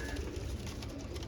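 Pigeons, including Royal Teddy breeder pairs, coo softly in a loft, a faint low murmur over steady background noise.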